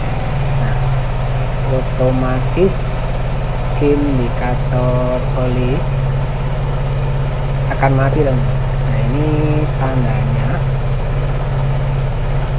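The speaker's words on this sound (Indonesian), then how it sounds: "mesin udah dinyalakan seperti ini" A Vespa Matic scooter engine idles steadily with its oil indicator lit, a constant low drone running beneath someone talking nearby throughout.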